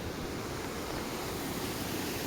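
Several small waterfalls in a German garden, heard from a little bridge above, make a steady close broadband rushing of falling water with no voices.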